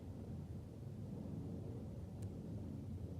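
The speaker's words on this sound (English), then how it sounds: "the thick grey clouds over the hills were echoing with thunder" Low, distant thunder rumbles continuously over hills under thick grey clouds, a quiet, even roll with no voices.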